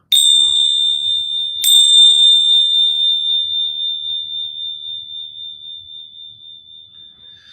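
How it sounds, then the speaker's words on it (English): Two dragon bells struck about a second and a half apart at the end of a meditation, each a bright metallic ring that hangs in a long pure tone and slowly fades in a quiet room. "I'll ring our dragon bells."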